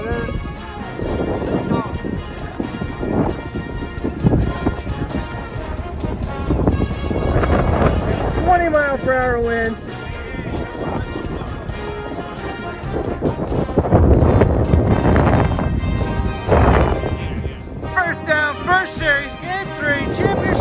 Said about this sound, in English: 20 mile per hour gust.